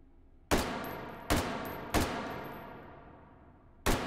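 Four sharp, loud gunshots from a firearm in the VR shooter Hot Dogs, Horseshoes & Hand Grenades ring out at uneven intervals, each trailing into a long echoing decay, with no talk over them.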